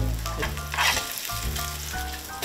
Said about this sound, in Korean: 지글지글 소리만 들어도 입맛이 살아나는 느낌인데요.